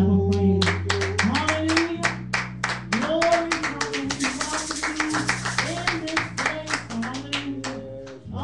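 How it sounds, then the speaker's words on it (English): A congregation claps along in praise during a worship service, with crisp, rhythmic hand claps repeating steadily over organ-like sustained chords and voices for several seconds. "let's welcome our Father in with a hand clap of praise."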